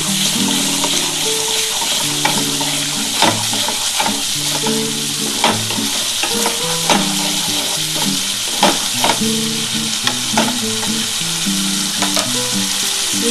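A spice masala cooks down in oil for an egg poach curry, the oil separating as it sizzles steadily up close, with repeated clanks and scrapes of a spoon stirring against the pan.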